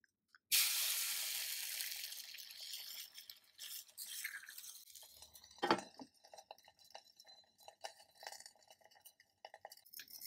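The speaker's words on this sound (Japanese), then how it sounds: "せっかくなんで目玉焼き作ってみようと思います" An egg frying in a 15 cm Nitori cast-iron skillet, starting with a sudden loud sizzle that fades into softer crackling and popping, plus one sharp clink partway through, close up with no talking.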